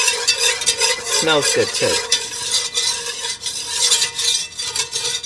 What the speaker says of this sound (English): So you have to stand and whisk it and watch it.